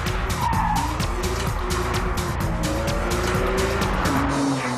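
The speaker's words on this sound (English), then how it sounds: "this car that was so famed for its dodgy rear end can be driven so hard in such greasy conditions" A Porsche 911 Carrera is driven hard on a greasy, slippery track, its engine revving loud and close through rapid gear changes while the tyres squeal and skid almost continuously.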